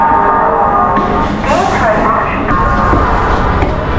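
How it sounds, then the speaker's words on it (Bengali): A local train pulls out of a station near Kolkata, a loud, close rumble of wheels and carriages with a brief horn-like tone, under people talking. "ফাইনালি 9:25 কিন্তু আমাদের ট্রেন ছেড়ে দিয়েছে একদম কারেক্ট টাইমে।"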